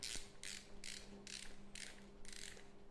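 BOA dial on a Thuasne Dynastab ankle brace being turned clockwise, giving six evenly spaced ratcheting clicks, quiet and close, over a faint steady background hum.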